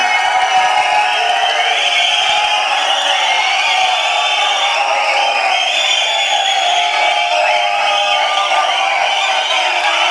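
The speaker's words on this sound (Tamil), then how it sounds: "ஒரு நல்ல கைத்தட்டலுடன் ஹீரோ சூரியன் அவர்களை பேச வைக்கிறோம்" A large crowd of fans at a film audio launch roars and cheers continuously, a dense wash of shouting and clapping with no pauses throughout.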